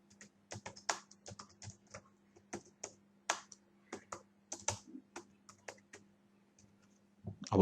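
Typing on a computer keyboard, quiet close-up key clicks in irregular bursts and short runs, with brief pauses and a louder clack at the end.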